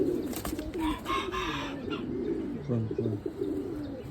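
Pigeons coo in low, rolling murmurs throughout, with brief chirps and some background bustle mixed in.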